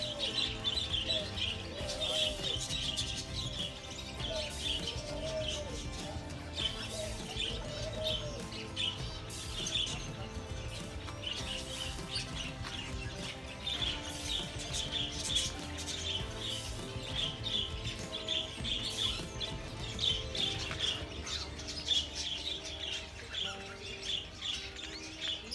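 Pigeons and small birds in a town park in Erding, Germany, chirp and tweet repeatedly with occasional soft cooing, a steady outdoor chorus at moderate distance with no talking.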